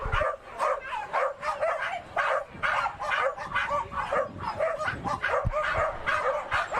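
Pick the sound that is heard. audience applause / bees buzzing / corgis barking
corgis barking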